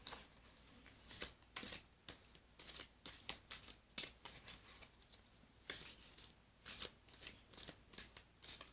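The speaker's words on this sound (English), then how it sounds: "let me get a good shuffle in for my Capricorn viewers and friends" Soft, quiet bursts of oracle cards being shuffled, riffled and tapped in irregular rhythm, close up with pauses between, no talking.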